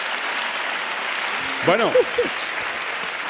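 Studio audience applause on a Spanish late-night comedy talk show: steady, dense clapping fills the whole stretch at an even level, with a brief spoken word rising over it partway through.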